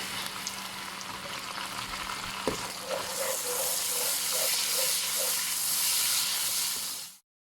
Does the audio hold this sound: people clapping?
no